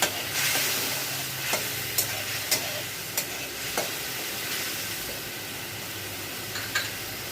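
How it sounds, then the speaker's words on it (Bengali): Spice masala sizzles and fries in a hot pan with a steady hiss, while a spoon or spatula taps and scrapes the pan several times in an uneven rhythm, with no talking. "এটা ভালো করে কষিয়ে নেবো।"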